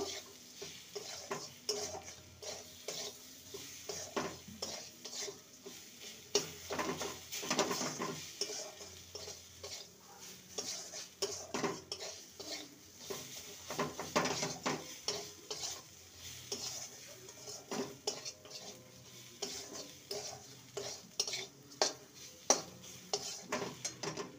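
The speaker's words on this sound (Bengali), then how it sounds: "বাদাম আর মুগ ডালকে ভালো করে মশলার সাথে কষিয়ে নেব" Roasted peanuts and ground mung dal are stirred with spices in a pan, a steady run of scraping and clinking strokes over a soft sizzle, close by and with no talking.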